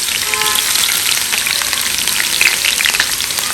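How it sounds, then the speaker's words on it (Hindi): Finely chopped onion frying in hot ghee, giving a loud, continuous crackling sizzle close by, with dense popping that never lets up. "मैं वो गर्म घी के अंदर डाल रही हूँ।"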